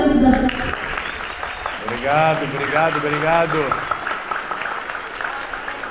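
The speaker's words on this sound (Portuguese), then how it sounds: "Palmas." Audience applause at a school discussion event, a steady background patter of clapping under someone speaking his thanks near the microphone.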